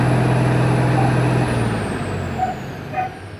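A Mitsubishi 6M70 truck diesel engine with a single EGR and a low-power fault runs loud and close, a dense steady roar that drops in pitch and gradually eases off, with a few faint clicks.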